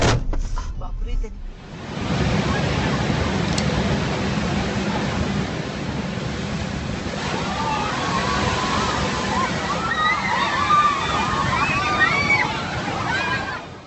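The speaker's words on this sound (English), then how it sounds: "One powerful surge from the sea is all it takes to transform a busy seaside walkway into a scene of fear, confusion, and rushing water." A powerful sea surge floods a seaside walkway, a continuous loud roar of rushing water lasting throughout, with faint distant shouts or cries rising toward the end.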